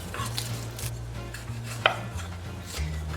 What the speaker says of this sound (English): I'm gonna cut some cloves of garlic.